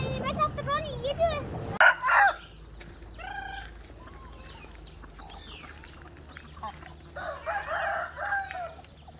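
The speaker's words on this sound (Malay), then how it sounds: "Ayam Belanda pula bang." A turkey calls on a village farm with other poultry, a close burst of gobbling and clucking followed by scattered fowl calls, with people talking over it.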